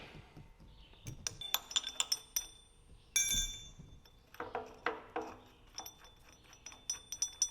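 A small Allen wrench supplied with a Badlands 3-ton offroad jack clinks and rattles against hard metal parts in sharp, irregular bright taps close up, with a louder clatter midway.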